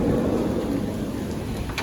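Steady rain with a low rumbling thunderstorm beneath it, a dense continuous wash of noise that stays loud and even throughout, with no voices.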